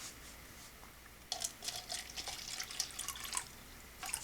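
Masterblend nutrient water is poured onto young pepper seedlings, making a soft, close trickle and splatter that starts after a quiet second and continues in faint, uneven bursts.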